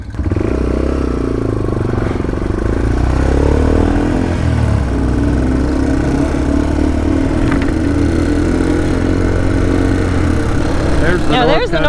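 A Yamaha TW200 motorcycle on the Cross PA Adventure Trail, its engine droning loud and close throughout with rattling clatter and shifts in revs as it rides along.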